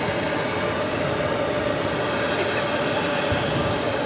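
An Aeromexico Boeing 787-9 Dreamliner bound for Mexico City runs its jet engines at JFK, a steady, fairly loud broadband rumble with a faint whine above it, continuous and without voices.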